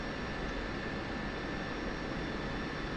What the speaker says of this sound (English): So what I can do is I can turn off my engine.